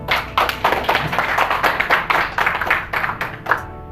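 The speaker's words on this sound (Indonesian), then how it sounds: "tepuk tangan." An audience at a journalists' competency-test event claps hands in sharp, uneven bursts, the individual claps close and distinct and rising and falling in uneven waves before trailing off at the end.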